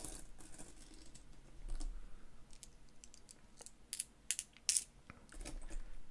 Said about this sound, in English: Does that mean he's going to put 9 coins in the tax stand?